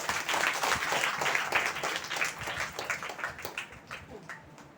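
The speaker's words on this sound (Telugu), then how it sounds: "చప్పట్లు కొట్టండి ఒకసారి అందరూ." A church congregation at a Christmas gathering claps together, loud at first and then thinning into scattered, fading claps, with some murmuring voices underneath.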